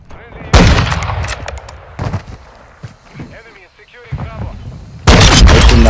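Sniper rifle fire in a fast online shooter, a sharp loud report opening the stretch and another heavy burst near the end, with scattered shots and game noise between and a voice talking over it.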